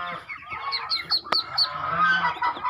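Muscovy ducks on an Indonesian breeding farm give a run of close, raspy honking calls, several overlapping in quick bursts.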